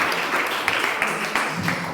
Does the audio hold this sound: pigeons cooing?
no